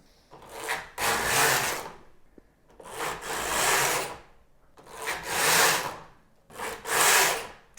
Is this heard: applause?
no